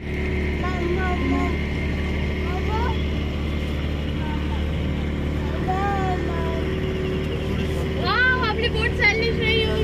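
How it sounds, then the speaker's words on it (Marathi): A motorboat engine drones steadily as the boat moves along off Vengurla beach, a loud continuous hum throughout, with people, including a child, talking over it. "आपली बोट चालली"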